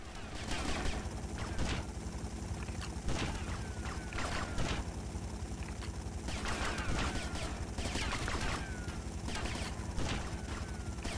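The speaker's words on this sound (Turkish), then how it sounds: "Elemanlar da çok iyi sıkıyor." Allied characters in GTA Vice City fire their guns in repeated volleys: sharp, dense bursts of gunshots and automatic fire crackle loudly throughout, with short gaps between clusters.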